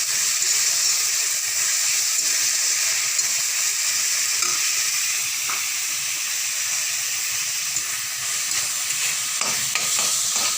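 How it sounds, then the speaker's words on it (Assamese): Paneer gravy masala of ginger-garlic paste, green chillies and tomato sauce sizzles and hisses in a pan while it is stirred and fried, Assamese style, with scraping stirs breaking through the steady frying noise and no talk. "এইবাৰ সেইখিনি ভালদৰে লৰাই"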